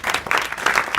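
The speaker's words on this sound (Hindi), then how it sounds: "बच्चों पहले तो इनके लिए ताली बजाओ।" Schoolchildren in a classroom clap together for a classmate, a brief burst of dense, lively hand-clapping at moderate loudness.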